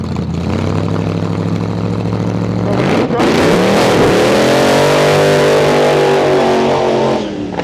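An antique drag car launches down the strip, its engine idling loud and rough, then surging into a hard, roaring pull that stays strong for several seconds before cutting off abruptly.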